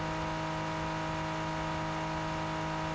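Porsche 911 GT3 R race car engine held at the pit limiter in the Rennsport racing game, a steady droning buzz with strong fixed tones, unchanging and continuous throughout.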